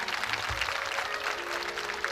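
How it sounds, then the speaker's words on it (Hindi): A women's Ramdhun devotional group audience in Kopra village claps steadily in a dense, moderately loud wash of applause that carries on throughout with no speech over it. "जोरदार ताली बजाना"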